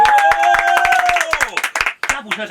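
Scattered, irregular hand claps from a small group in a Red FM radio studio welcoming film guests, with a sustained tonal voice or music line running underneath.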